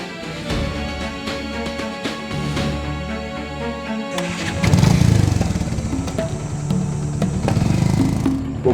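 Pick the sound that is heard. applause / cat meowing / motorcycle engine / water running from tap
motorcycle engine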